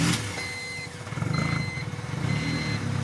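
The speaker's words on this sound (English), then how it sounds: "So we've got a real rough idle right now." A 1998 Honda Civic engine idles roughly up close, a low uneven rumble running steadily, with a faint high beep repeating in the background.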